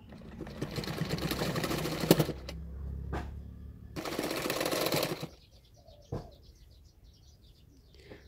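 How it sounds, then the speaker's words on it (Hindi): A sewing machine stitches a double katori blouse for a beginner, with two runs of fairly quiet, close mechanical stitching, a brief pause between them, then a few faint taps as it stops. "तो इस तरह से मैं फोल्ड करते जा रही हूँ और सिलाते जा रही हूँ"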